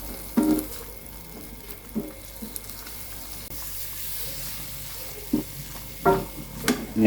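Sausages being stirred into gochujang sauce in a pan, with a few scraping spatula strokes spaced through a low simmering background, loudest near the end; no talking.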